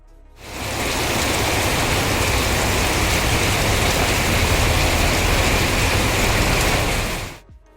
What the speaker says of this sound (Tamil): ராமேஸ்வரத்தில் மண்டபம் பகுதியில் 16 சென்டிமீட்டர் மழை பதிவாகியுள்ளது.